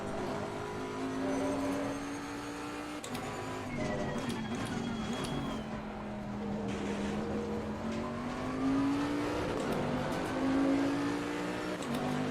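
Bentley race car engine in Assetto Corsa Competizione at the Kyalami circuit, holding a steady droning tone that rises and dips as throttle is applied, heard fairly quietly and continuously.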